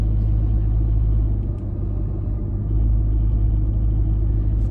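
Steady low rumble from inside an SUV driving along a road on a fine day, a constant engine and road drone with no talking.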